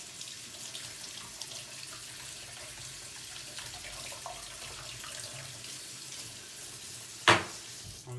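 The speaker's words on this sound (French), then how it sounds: "Donc on le rince bien avant de l'utiliser pour enlever tout le produit." Running tap water rinsing a hookah kaloud in a sink, a steady soft splashing hiss throughout with one brief louder clatter near the end.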